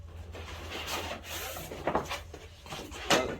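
A fabric hurricane panel for home storm protection is picked up and handled, giving soft rubbing and rustling with a few scraping knocks against a low background hum.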